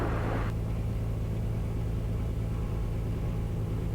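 A Beechcraft A36 Bonanza piston engine runs up to 2,500 rpm with its brakes on, giving a loud, steady, droning roar with a deep hum, close and continuous, with no voices.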